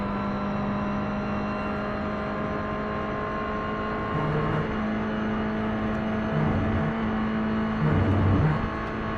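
Race car engines in the iRacing sim at Indianapolis Motor Speedway, with a Clio, MX-5 and GR86 in a production car race, drone as a steady loud whine throughout, swelling slightly toward the end.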